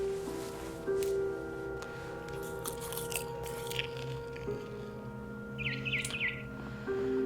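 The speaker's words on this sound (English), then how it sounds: "It was a barn swallow going back to her nest." A barn swallow returning to its nest in the video game What Remains of Edith Finch gives a brief burst of quick, high chirps late in the scene, heard over a steady low hum and scattered soft clicks.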